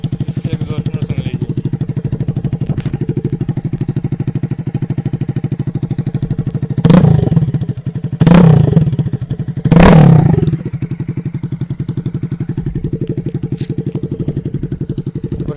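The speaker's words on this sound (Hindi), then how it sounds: "और आपको मैं एक बार इसको बाइक को रेव करके दिखाता हूँ" A Jawa 42 motorcycle with its silencers removed idles with a loud, rough, unmuffled drone, then roars through three sharp revs in quick succession before settling back to idle.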